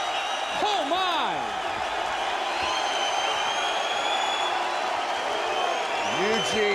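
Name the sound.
UFC arena crowd cheering after knockout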